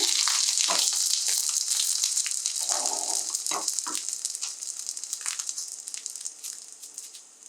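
Eggplant shallow frying in oil in a pan for Afghani burani banjan, a steady bright sizzle with crackles and a few clinks and scrapes, gradually settling slightly quieter.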